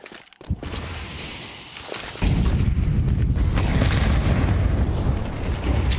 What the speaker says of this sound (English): Sin pelted by the frag grenade.